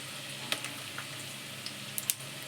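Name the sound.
spices frying in oil for Telangana mango egg curry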